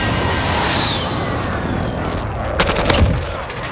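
An airstrike in Warzone arrives as a rising aircraft roar and then a burst of loud, rapid strikes and explosions near the end, with little else around them.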